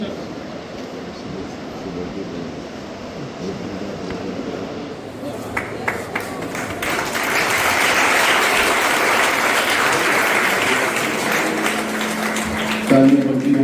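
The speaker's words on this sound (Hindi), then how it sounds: "ये सभी तालियां बजती रहनी चाहिए" An audience claps steadily at a school silver jubilee anniversary ceremony, the applause swelling fuller partway through and continuing as a sustained wash, with a voice speaking over it.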